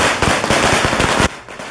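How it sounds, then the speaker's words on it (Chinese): Recorded firecracker sound effect played from a CD at a temple fair procession, a loud rapid crackle of string firecrackers that runs for over a second and then cuts off abruptly. "远远看还真的很难发现庙会现场热闹的鞭炮声"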